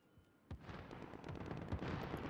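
Distant gunfire in the Call of Duty Warzone video game, a muffled crackle of shots rolling in from far off after a single sharper report, low in level with no voices on top.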